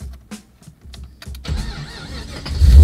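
An LS3 V8 in an E36 drift car cranks with a few short starter bursts, then catches and fires into a loud, rising rumble close by.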